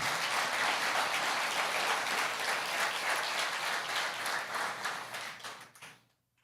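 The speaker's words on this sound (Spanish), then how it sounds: "Denle ese aplauso fuerte al Señor." Congregation applause during a church service, a dense wash of clapping filling the room, loud and steady before tapering off and fading to quiet at the end.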